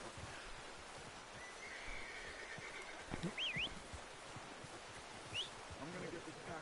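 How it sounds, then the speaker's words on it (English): A horse in Red Dead Redemption 2 gives a short whinny over a faint outdoor ambience, with a brief second call later and light hoof sounds, all fairly quiet and distant. "Lá vem o meu cavalinho."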